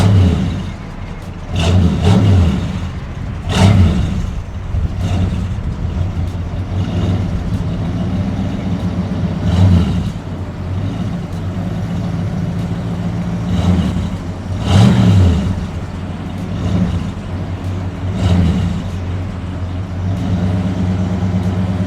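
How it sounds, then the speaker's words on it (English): A 1967 Chevrolet Chevelle SS 396 V8 idles with a deep rumble, then revs repeatedly in loud, rising bursts spaced several seconds apart, settling back to a throaty idle between each blip. "You ready to drive it and start it up?"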